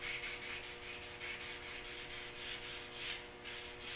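Wet sanding of a car's rocker panels makes quiet, rhythmic rubbing strokes, soft and close, repeating back and forth with no talking.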